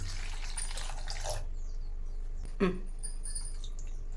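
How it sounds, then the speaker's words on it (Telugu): Water splashes and trickles into a bowl for about a second and a half, then a brief clink and faint handling noises follow. "దీనికి ఒక two glass of water add చేయాలి"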